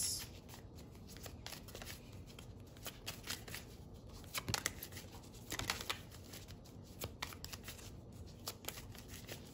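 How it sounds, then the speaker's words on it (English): Oracle cards, including a Halloween deck, are shuffled close up in soft, quick papery riffles and slides, with a few sharper flicks, quiet and without talking. "All right, so I'm going to pull some oracle cards."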